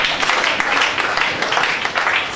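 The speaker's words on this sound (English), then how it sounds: "Clap for him again." Audience applause at an asthma and respiratory disease awareness workshop, a steady wash of many hands clapping together that holds at an even level for the full stretch with no break.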